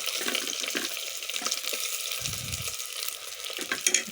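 Onions frying in two spoons of hot oil to start a tamarind fish curry give off a soft, steady sizzle, quiet and close, with a few faint clinks from the pan.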